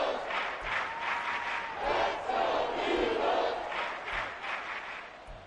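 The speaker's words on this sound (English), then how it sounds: "The crowd getting into it as we come up on a big third down." A stadium crowd in a Madden football game roars in swelling waves ahead of a big third down, a dense, rising and falling cheer with rhythmic chanting pulses, heard alone without talk.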